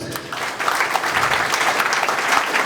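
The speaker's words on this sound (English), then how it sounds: "I think they deserve a round of applause" A crowd at a Reform political campaign event in Plymouth applauds its volunteers, with steady, dense clapping sustained throughout, close and loud.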